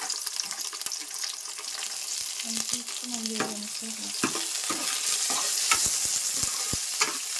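Chopped onions and green chilies fry in hot oil with a steady sizzle, punctuated by frequent scraping stirs of a spatula against the pan and a few faint water-like splashes, close and continuous with no talking.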